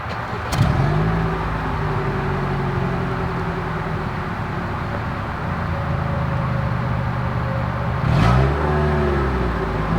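A 2024 Toyota RAV4 AWD with dual exhaust idles with a steady low rumble, with a short rev blip near the start and another near the end.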